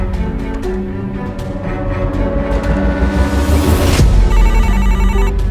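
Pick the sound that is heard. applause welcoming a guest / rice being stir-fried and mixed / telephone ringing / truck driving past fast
telephone ringing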